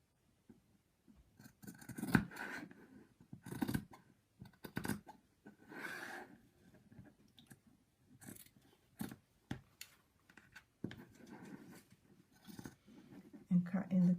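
Scissors trimming the corners of fabric for an in-the-hoop zip top bag, short close snips scattered between stretches of talking.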